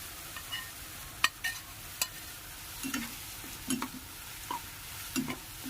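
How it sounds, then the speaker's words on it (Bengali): Ginger-garlic paste frying with onions in a pan, a faint steady sizzle broken by intermittent scraping and clinking strokes of a spatula as the mixture is stirred, with no voices. "আদা রসুন বাটাটাকেও এর মধ্যে ভালোভাবে মিশিয়ে নিয়ে ভাজতে হবে।"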